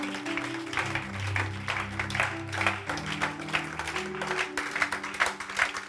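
A church congregation claps and cheers for the Lord during a Sunday service, with dense, continuous applause over sustained low instrumental chords for the whole stretch.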